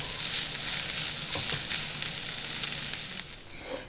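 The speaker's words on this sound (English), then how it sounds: "just add our corn right in here and just cook it for like 2 to 3 minutes" Corn kernels sautéing in a hot pan: a steady, bright sizzle throughout, with a few soft stirring scrapes and no voices.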